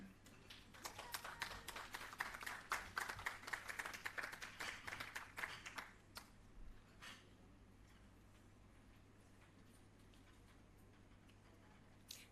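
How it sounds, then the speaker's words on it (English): Scattered clapping from an audience at a graduation ceremony for restorative justice facilitators, a thin smattering of hands that fades out after about six seconds, leaving quiet room tone. "A round of applause, ladies and gentlemen."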